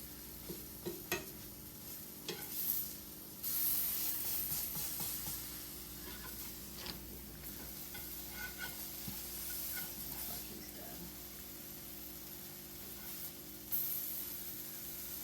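Banana pancake bites fry in a pan with a soft, steady sizzle, broken by occasional scrapes and clinks of a utensil turning them; the hiss swells briefly a few times, with no talk over it.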